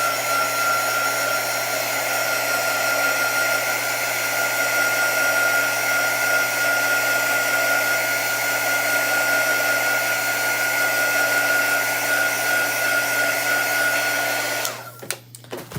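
A hair dryer blows a steady, loud, close whir to dry chalk paste on a farmhouse tray craft project, running unbroken before clicking off at the end.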